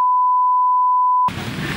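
A single steady electronic beep from a mobile phone holds for over a second, loud and close, then cuts off into background noise.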